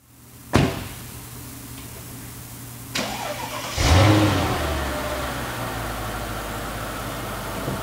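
A Mercedes-Benz SL500 Sport: a door thuds shut, another click follows, then the V8 fires up with a sharp bark and rev before settling into a deep, rumbling idle and pulling away, heard nearby without talk.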